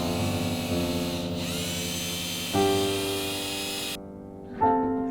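A power drill whines at close range as it drives fasteners through thin boards into wall studs in a closet, its pitch stepping up and down with the trigger before cutting off and briefly starting again.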